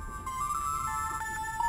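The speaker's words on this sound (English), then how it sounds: "And it's ringing." An old cell phone rings in the video game The Charnel House Trilogy, a steady electronic ringtone with repeating tonal beeps over a faint background hum, no voices.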